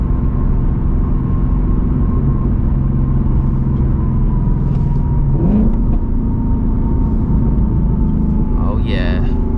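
A Ford Mustang GT S650 engine holds a loud, steady rumbling drone from close by throughout, with a brief rise in pitch midway, like revving while held on launch control, and a few faint voices underneath.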